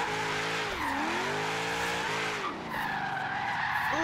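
Car tires skid and squeal continuously while drifting through street sections in the Forza Horizon 3 video game, played on a Logitech G920 wheel, with engine tones sweeping up and down under a loud, sustained screech.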